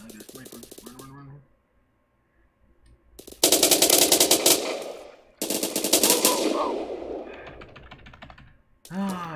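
Rapid gunfire in the Roblox shooter Phantom Forces on the Crane map, loud bursts of automatic shots in two main stretches with short pauses, a brief quieter burst near the start and talk between the volleys.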